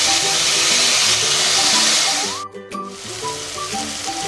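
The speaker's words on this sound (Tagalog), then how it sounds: "let's fry this for a little bit while. We just need to release the flavor of the onion" Chopped onion sizzles steadily in a hot pan for a vegetable soup, a loud, broad frying hiss that dips briefly and then resumes, with soft background music underneath.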